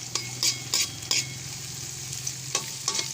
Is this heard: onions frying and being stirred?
yes